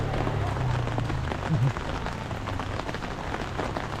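Steady rain falls during a typhoon, a dense, even hiss that runs through the whole stretch, with a low hum and a brief bump underneath.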